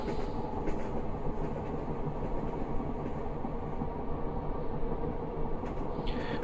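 Class 325 electric multiple unit running at speed in Train Simulator Classic, a steady, loud rumble of wheels and traction with faint rail clatter, continuous and close, no voices.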